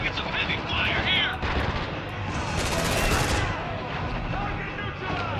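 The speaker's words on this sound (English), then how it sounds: "man, we're taking some heavy fire" Heavy gunfire from the video game Spec Ops: The Line pours out as a continuous loud fusillade of overlapping shots and rumbling impacts, with someone talking over the barrage.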